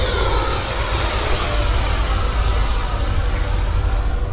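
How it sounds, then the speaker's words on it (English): An RC model jet flying, with a steady, loud turbine whine holding an even tone throughout, close and unbroken. "I still love this jet. We need to do more with it."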